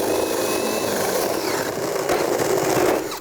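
A power drill with a 1¼ inch bit bores out a hole in attic framing wood, a steady loud grinding whir held close for several seconds, then trailing off.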